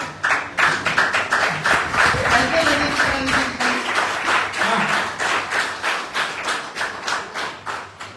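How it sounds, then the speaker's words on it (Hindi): Audience members at a business seminar clap in a dense burst that settles into a rhythmic, evenly paced beat toward the end, loud and near, with a faint murmur of voices underneath. "लेकिन कभी अपने के लिए ताली बजाना हो तो क्या बजेगी?"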